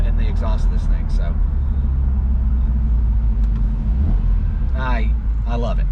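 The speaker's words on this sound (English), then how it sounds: "That's the entire New York Philharmonic in the exhaust of this thing." Aston Martin V8 Vantage driving on a Tennessee mountain road, its exhaust a steady loud engine rumble throughout with revving rises, while voices talk over it inside the car.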